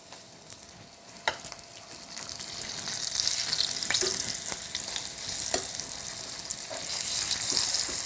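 Chicken breast sears in olive oil over moderate heat, a close, steady sizzle that gradually builds, dotted with small pops and crackles, and no talk.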